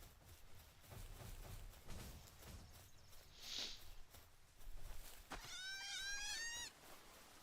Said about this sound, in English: This is the sound of a very angry sheep.